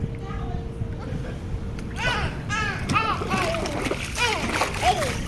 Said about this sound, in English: Yay! Water splash!